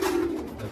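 A large fancy pigeon gives a single short, low coo close by, a soft throaty hum lasting under a second with no talk over it.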